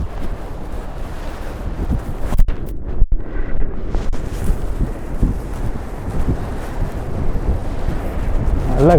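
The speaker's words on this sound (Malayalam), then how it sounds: "നല്ല കാറ്റടിക്കുന്നു." A strong winter storm wind at -9°C roars continuously against the microphone on a city walk in Toronto, Canada, with loud rumbling gusts and buffeting and a brief lull partway through.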